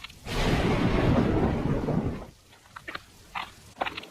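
Loud monsoon thunder rumbles close by for about two seconds, then fades into rain with a few scattered knocks and sharp sounds.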